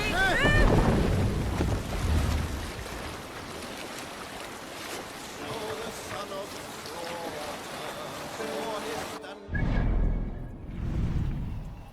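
Wind gusts and rushing sea water surround a Viking sailing ship as its sail is let out in Assassin's Creed Valhalla, with shouted voices over the blustery noise and a sudden hush near the end.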